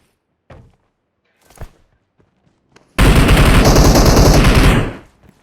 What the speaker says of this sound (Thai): คนยิง